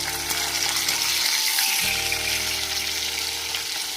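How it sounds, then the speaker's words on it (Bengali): Fish fries in hot oil with a continuous, even hiss close by and a low steady hum underneath, with no breaks. "এই সাইডটাও ভেজে নেবো"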